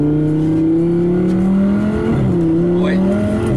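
Twin-turbo Audi R8 engine running loud and close, a sustained throaty drone whose pitch climbs and dips as it revs, with a brief tire chirp near the end.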